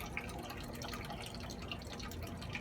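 Apple juice drips from a homemade apple crusher into a container, a steady run of small wet drops over a continuous low rumble, fairly close and without talk.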